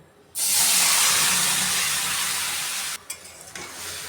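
Flat beans hit a pan with a little hot oil and burst into a loud, close sizzle that hisses steadily for several seconds, fading slightly before stirring clatters break in near the end.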